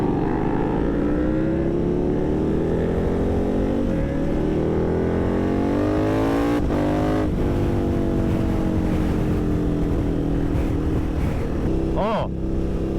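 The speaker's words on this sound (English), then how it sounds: "I got a new exhaust on the old KTM." A KTM motorcycle with an aftermarket exhaust drones loudly and continuously, its pitch climbing and dropping as it shifts through gears, heard up close while riding.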